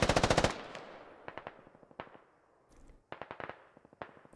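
Automatic gunfire from the military shooter Squad: a loud opening burst of rapid shots, then more short bursts and single cracks that echo and fade between volleys, with no voices.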